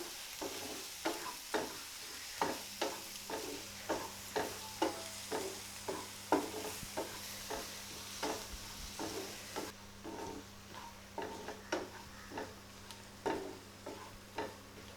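Egg, tomato and onion scramble in a pan over a low flame with a soft sizzle, as a spoon scrapes through it in an even rhythm of about two strokes a second, quiet and close, with no talking.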